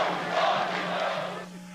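Sport Recife fans pack a stadium on a 19-degree night before the 2008 Copa do Brasil final against Corinthians, their massed crowd roar swelling briefly, then easing off as it fades toward the end.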